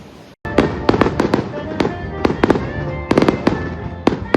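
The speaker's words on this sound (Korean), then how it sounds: "하나비 불꽃놀이" Fireworks bursting in a rapid series of sharp cracks and bangs, loud and close, with a brief silence at the start and crackling between pops.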